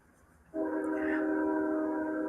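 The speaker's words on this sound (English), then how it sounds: "I hate them trains." A train horn sounds a loud sustained chord that starts abruptly and holds steady for nearly two seconds, fairly close.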